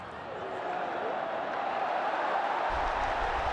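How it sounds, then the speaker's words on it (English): Large crowd at the MCG during an India vs Pakistan T20 World Cup cricket match, a steady, dense roar of voices with no breaks, and a low rumble joining near the end. "The crowd are loving it."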